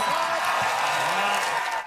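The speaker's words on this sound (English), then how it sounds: "when the audience applauds, good for you" An audience applauds in a steady, dense wash of clapping that holds at an even level throughout, with a voice faintly audible beneath it.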